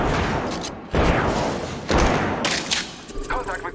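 Gunfire in the Apex Legends battle royale shooter: two heavy broadband bursts land about a second apart, each decaying into a rattling tail, followed by quieter clatter and game voice lines layered over the action.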